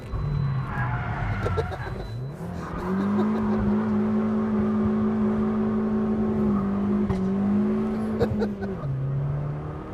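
A 2012 Fiat 500 Abarth makes a handbrake turn, its engine note rising and holding steady at high revs with tyre scrub and a whirring drivetrain, then dropping back, loud and close throughout.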